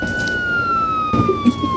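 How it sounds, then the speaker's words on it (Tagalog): A police car siren wails in a steady, loud, near tone throughout, with scattered bumps and clatter toward the end. "Nagulat ako dun sa tunog ng pulis eh."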